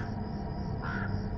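A flock of crows gathering in winter as daylight fades, cawing continuously in a dense, overlapping chorus with one harsher call standing out briefly near the end.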